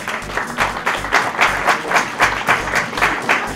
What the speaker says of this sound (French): Et je vous demanderai de l'applaudir.